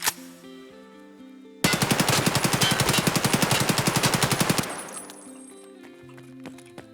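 A sustained burst of rapid automatic fire from an AKS74U submachine gun in Escape from Tarkov, loud and close, about three seconds long, with quieter game sounds before and after.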